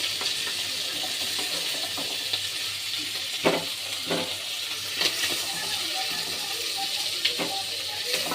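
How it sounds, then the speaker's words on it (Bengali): Shrimp frying in hot oil gives a steady, close sizzle with a few brief clinks and stirring knocks, and faint voices now and then under the crackle. "আমার চিংড়ি মাছটা ভাজা হচ্ছে"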